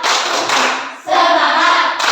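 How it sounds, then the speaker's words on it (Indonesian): A classroom group does a rhythmic spirit clap, dense, loud unison clapping in a steady burst with a brief pause midway before resuming, no talking over it. "Tepuk semangat."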